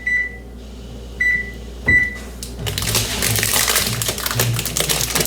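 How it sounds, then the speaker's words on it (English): A kitchen oven being switched on and set to 375: three sharp electronic beeps from the control panel, then a steady rushing hum as it starts running, with a faint clatter nearby. "Let me put my oven on."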